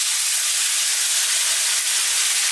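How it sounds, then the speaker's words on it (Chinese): Prepared sauce hits a hot skillet of golden pan-fried egg-coated tofu, giving a loud, even, steamy hiss that holds steady throughout without talk. "然后倒入调好的料汁"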